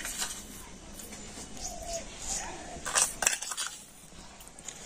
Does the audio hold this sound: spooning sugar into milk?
yes